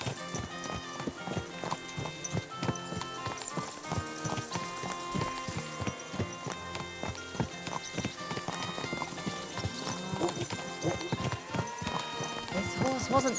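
Brisk clip-clop of horse hooves in a steady trotting rhythm in the video game Kingdom Come: Deliverance 2, mixed with other noise, continuing throughout at a moderate level.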